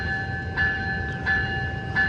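An Amtrak San Joaquin train departing Emeryville station sounds a steady, loud horn or bell tone in a few repeated pulses over a constant rumble, close by.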